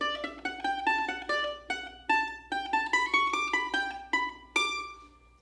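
A mandolin plucked and strummed with a cheap thin guitar pick in a short melodic run, bright twangy notes with a thin picky attack, close and clear, no voices.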